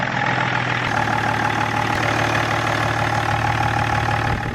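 A BMW E39 engine, just fixed with a new camshaft sensor, running at a steady loud idle, close up, with a constant low drone and no talking.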